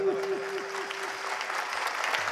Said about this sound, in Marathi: एकदा जोरदार जोरदार टाळी वाजवा दोन्ही वादकांकरता.